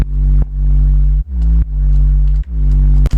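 Dark trap saw-wave synth bass with a deep second harmonic plays alone, loud and sustained, in a few long notes with brief pitch changes between them.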